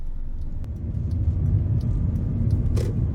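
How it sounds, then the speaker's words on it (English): A 2014 Hyundai Elantra GT with a 2-liter naturally aspirated four-cylinder drives on the road, its steady low engine and road rumble heard from inside the cabin with no voices. "let's go ahead and take this 2014 Elantra GT out on the road for a test drive."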